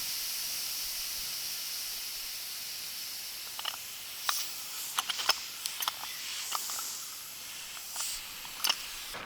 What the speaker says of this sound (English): So we're going to release the remaining butane there.